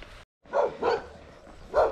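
Dogs bark in the morning outdoors along a long-distance hiking trail, with three clear, moderately loud barks spaced about a third of a second apart after a brief gap.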